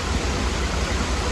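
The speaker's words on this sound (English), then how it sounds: "Not that you can hear a lot because of the sound of the water behind me." Water rushes steadily behind a canal boat, a close, continuous broadband roar with no breaks.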